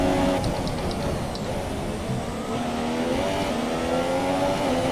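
A Williams Formula 1 car's engine in F1 2017, qualifying at Monaco, droning loud and steady through the whole stretch with shifting pitch as it revs along the lap.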